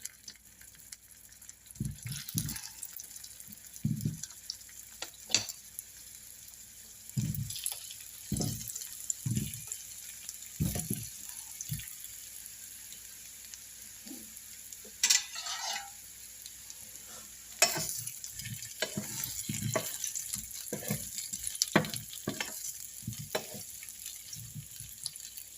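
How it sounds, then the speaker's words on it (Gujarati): Potatoes frying in a spoonful of oil for dum aloo, a soft continuous sizzle punctuated by repeated scraping stirs and clinks of a spoon in the pan, close and without talk. "બટેટા આપણે ફ્રાય કરી લઈશું એમાં"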